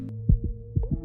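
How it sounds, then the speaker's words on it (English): A video game heartbeat warning plays as two close pairs of low, thumping beats, like a heartbeat. It sounds over a steady low hum, loud and close. "Once you hear the heartbeat, it means that you're"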